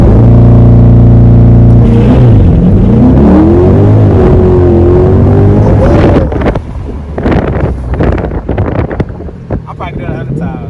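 A 2021 Chevrolet Corvette C8 Z51 V8 launches hard, a loud rising engine roar climbing through the revs with heavy wind buffeting, then easing off into rumbling road and wind noise as a person talks.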